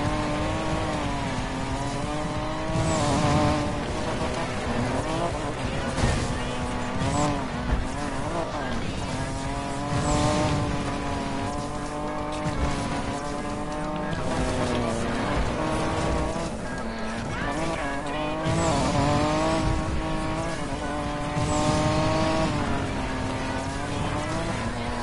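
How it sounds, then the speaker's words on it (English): A car drifting on the handbrake, its engine revving in rising and falling waves while tires squeal and skid across a long continuous run, loud and close, with no talking. "Start hitting that handbrake."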